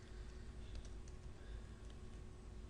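Steady computer keyboard typing during a Visual Basic programming session, a continuous run of soft, close keystrokes with no talk.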